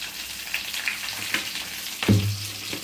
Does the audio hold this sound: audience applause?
no